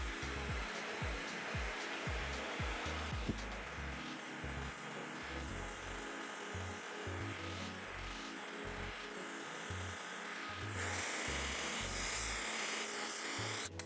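A hair dryer runs continuously during a round-brush blowout, a close, steady whirring hum with brief pulsing dips as the airflow shifts, growing a little louder toward the end.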